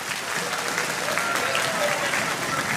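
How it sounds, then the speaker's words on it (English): Steady, full applause from an audience at an award ceremony for a placing middle school orchestra, a dense wash of many hands clapping evenly throughout, with a voice faintly audible beneath it. "give them a round of applause"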